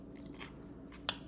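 A single sharp crunchy bite of cucumber in a Mediterranean salad near the end, with faint chewing and mouth sounds before it, close and fairly quiet.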